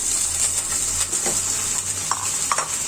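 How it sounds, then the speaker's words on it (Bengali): Onion, garlic and chopped ginger fry in hot oil for a banana-blossom curry, giving a steady close sizzle with a few scraping stirs and utensil clicks, no talking. "মোচা রান্না করার জন্য পেঁয়াজ, রসুন, আদা কুচি এগুলো দিয়েছি"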